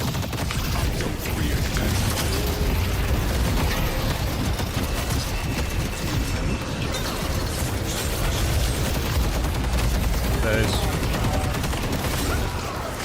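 Dense, continuous gunfire and combat effects from a Deadlock match, loud and busy throughout with scattered impacts and mechanical clatter, a voice occasionally audible beneath the barrage.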